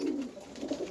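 Pigeons, descended from rock doves, give a short low coo, a near and moderately loud throaty burble with a soft second pulse.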